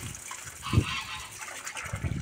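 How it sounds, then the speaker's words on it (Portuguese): A turkey in rural Goiás gives a short, throaty honking call from fairly close, with a second fainter call near the end over quiet outdoor background. "Olha o peru, olha o peru, olha o peru brabo aí, ó."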